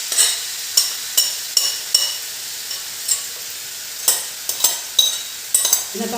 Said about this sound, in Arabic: البنات حطيت المقله تسخن ونحطوا الطونه تاعنا